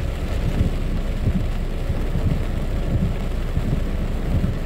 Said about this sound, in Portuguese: Tempo severo na cidade. Severo,